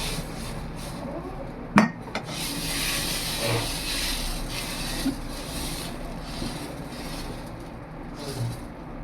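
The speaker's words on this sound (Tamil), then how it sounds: "இப்போ சட்டி காஞ்சிருச்சு, ஆப்பத்தை ஊற்றிக்கிறோம்." Appam batter goes into a hot, dried appam pan: a sharp clatter of the pan and faint scraping, then a low steady hiss and a few soft knocks, close by with no talking.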